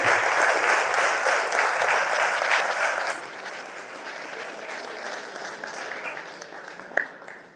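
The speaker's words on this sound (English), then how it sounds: "Let's give him a round of applause." Dense applause from an audience at an under-18 men's ice hockey blazer ceremony, a steady wash of clapping that thins out after a few seconds and ends with one sharp clap.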